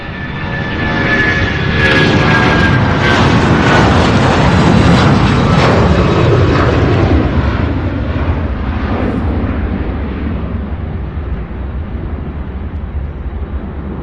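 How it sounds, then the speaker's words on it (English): Boeing 757 taking off from Louisville International Airport, a loud broad jet roar that swells within the first seconds, peaks, then slowly recedes as the plane climbs away. "As the 757 makes its way to the skies"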